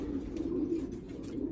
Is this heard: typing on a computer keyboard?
no